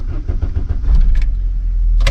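A Volkswagen Vento's engine cranks with rhythmic pulses for about a second, then catches and settles into a steady, close idle, with a few short clicks near the end.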